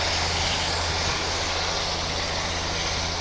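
A fixed-wing aircraft at Caernarfon Airport, the former RAF Llandwrog, gives a steady, continuous engine drone with a deep low hum and broad roar, heard without any talk.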